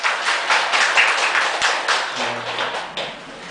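Audience clapping fills a Buddhist temple lecture hall during a Wednesday Buddhist college session, a steady dense patter of many hands at close range, continuous throughout without any talk.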